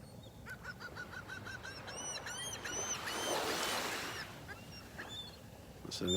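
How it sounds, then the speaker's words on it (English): Laughing gulls call on a beach in North Naples, Florida, a series of repeated nasal yelping notes in short bursts, moderately near over soft surf and wind. "Listen to those laughing gulls."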